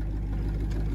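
A Jeep CJ5 with a Quadrajet carburetor that is not running happily, idling in a brief, steady low rumble close by.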